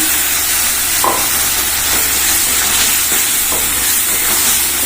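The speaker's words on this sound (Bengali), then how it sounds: "এবার মশলাটা দিয়ে দিলাম" Spice masala stir-fried in hot oil in a pan gives a loud, steady sizzle and hiss, with faint stirring scrapes, close up and with no talking.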